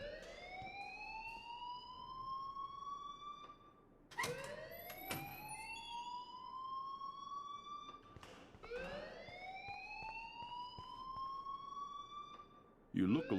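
A school alarm in Life Is Strange wails in repeated rising siren sweeps, each lasting about four seconds, loud and continuous throughout, with a brief burst of other noise at the very end.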